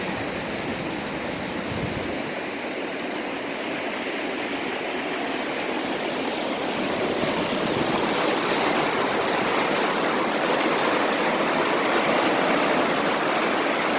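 River Itchen water rushes steadily through a sluice gate near Winchester, a loud continuous roaring flow that stays constant throughout, with no voices.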